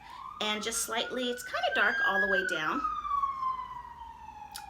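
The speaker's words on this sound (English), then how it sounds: "Sorry about the siren." An emergency vehicle siren passes outside with a steady, slowly rising and falling wail that keeps going while a person talks indoors.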